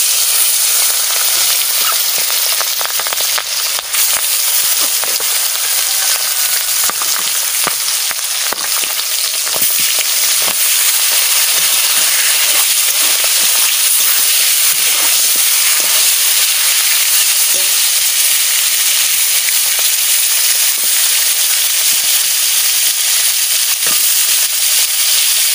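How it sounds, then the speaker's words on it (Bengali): Fish fries in hot oil with a loud, dense, continuous sizzle and crackle that runs unbroken for the whole span, close up and with no voices. "এবারে আমি মাছ ভাজা বসাই দিচ্ছি।"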